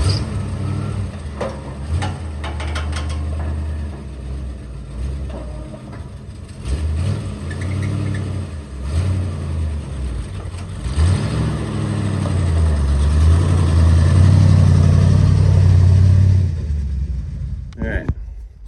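Old high boy beater plow truck with its engine rumbling and revving as it drives and spins around, engine noise building louder toward the end, with voices talking over it.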